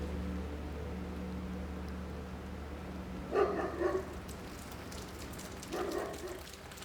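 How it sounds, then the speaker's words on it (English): Steady rain hisses in the background with a low hum at an abandoned seaside waterpark in Italy, and a couple of short, muffled clattering bursts stand out midway and near the end. "Should we have a look through whilst it's raining?"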